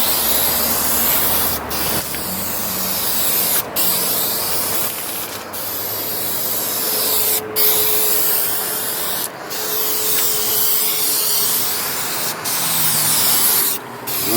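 Dupli-Color Perfect Match aerosol paint sprayed onto a car bumper, a loud continuous hissing spray in long passes broken by brief pauses between strokes, close to the can with no talk.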